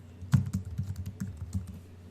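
Close keystrokes on a computer keyboard while renaming a layer in Photoshop, a quick run of a dozen or so soft clicks in an uneven rhythm, heard alone with no speech.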